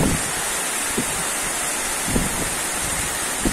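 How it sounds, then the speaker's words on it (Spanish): Heavy rain during a late-August storm in Mexicali, a loud, dense, steady hiss of downpour close by, with a few brief thuds and no talk. "mucha agua, mucha lluvia."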